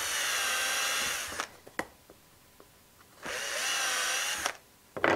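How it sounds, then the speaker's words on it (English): Power drill bores holes through wood pieces in two loud, sustained whining bursts, separated by a quieter pause with small knocks and handling sounds. "We need to drill out both sides"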